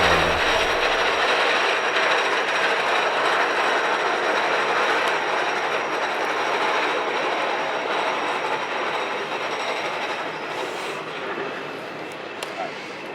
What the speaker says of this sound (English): I want to wait till the train goes up.